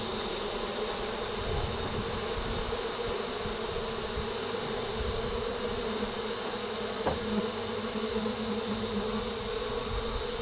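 Steady honeybee buzzing fills the air, a dense close drone of many insects with no voices.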